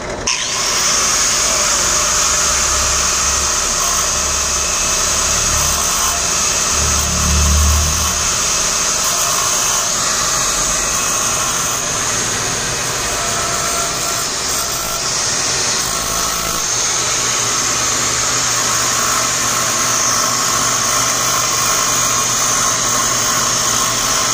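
A fuel-injected Honda CG Titan 240cc motorcycle engine remapped to run on ethanol runs steadily and loud throughout, with a constant buzzing drone and a brief low rumble burst partway through, no talking.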